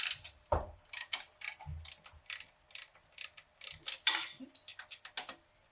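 A hand ratchet clicks in quick, steady runs while loosening exhaust manifold bolts on a 1969 Ford F250 Camper Special. The close, crisp ratcheting comes in repeated bursts with short pauses between strokes.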